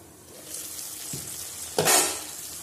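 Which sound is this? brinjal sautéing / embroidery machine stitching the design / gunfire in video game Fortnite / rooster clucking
brinjal sautéing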